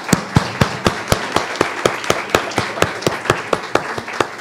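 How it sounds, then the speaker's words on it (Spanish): Sparse, evenly spaced claps ring out at a book launch at a book fair, a slow steady beat of single sharp hits running throughout rather than a dense ovation. "Un aplauso, por favor"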